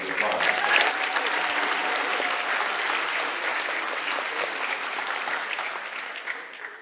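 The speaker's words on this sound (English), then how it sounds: "Give them a round of applause" Audience in a high school gathering claps for the school faculty, a full burst of applause that starts strong and slowly thins out toward the end.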